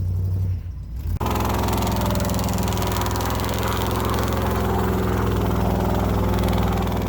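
A plow truck's stock TBI 454 V8 runs through dual exhaust with headers, idling with a deep, steady rumble after a brief dip in the first second; loud and close, with no talk.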